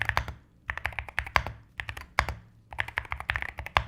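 Typing on an AKKO MU01 Mountain Seclusion mechanical keyboard with a wooden case: crisp, close keystrokes in quick bursts separated by brief pauses, loud and alone without any talk.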